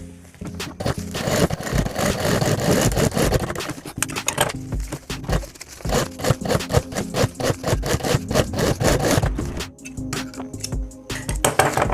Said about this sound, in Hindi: दोनों को बराबर देखकर हम इसे फिर सिलाई करेंगे।